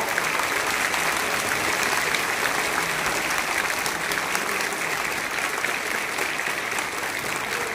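An audience clapping hands in a dense, steady burst of applause that holds at an even level the whole time.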